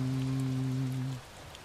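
Thunderstorm rain from the Touhou Genso Wanderers video game: a steady hiss of rainfall under a low humming tone that cuts out partway through, with no talk.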